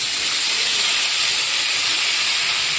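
Paneer sizzles in hot butter with Kashmiri chilli powder and turmeric, a loud, steady frying hiss that carries on unbroken and close, with no voices.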